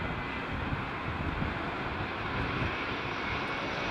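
Boeing 777 jet aircraft at Heathrow Airport during a gusty storm, a steady broad engine roar that holds loud and unbroken throughout, mixed with wind rumble and no voices.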